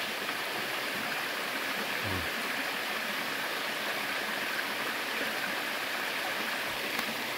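River water flows steadily in the countryside as a continuous, fairly loud broadband rush with no breaks, and nobody speaks.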